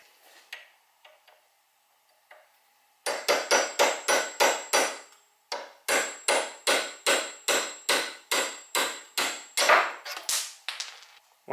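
Hammer blows drive a punch through a spark plug to knock out its electrode and ceramic center, clamped in a vise, for a YZ85 two-stroke timing gauge. About twenty sharp metallic strikes come in quick, steady bursts after a few light taps, loud and close.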